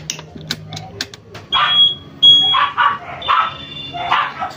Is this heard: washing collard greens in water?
no